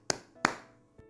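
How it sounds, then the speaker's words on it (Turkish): A crafter gives two sharp, close claps, a short pause between them, then a fainter third tap, in a quiet indoor room while making a sawdust-clay Christmas tree candleholder. "Kendi kendimi alkışladım."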